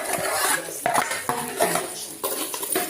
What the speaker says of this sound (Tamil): இப்போ அதை பொறுமையாக கிளறி விடலாம்